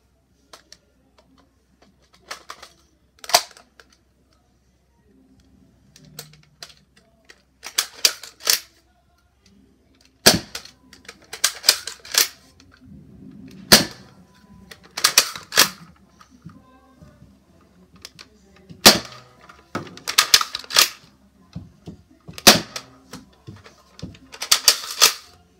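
A Nerf Rival Finisher toy blaster fires in a series of sharp, snappy pops with mechanical clicks between them, spaced irregularly across quiet gaps, close and fairly loud.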